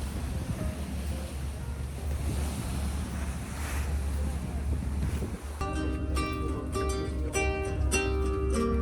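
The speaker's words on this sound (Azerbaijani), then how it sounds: "oradan qarşı tərəfə, yəni Qarşıyakaya keçmək üçün vapurdan istifadə edirik" A ferry crosses the bay in İzmir toward Karşıyaka, with constant engine and water rush, wind buffeting the microphone and waves on the hull, before music takes over in the final seconds.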